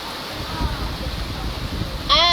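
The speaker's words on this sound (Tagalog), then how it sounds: "medyo malakas ang ulan" Heavy rain falling steadily at close range, a broad continuous wash of noise throughout, with a brief chirping sound near the end.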